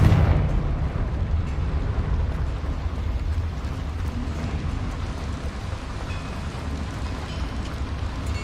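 A Confringo blasting spell goes off in the video game Hogwarts Legacy, a loud rumbling burst that decays into a long, rough, noisy roar with no speech.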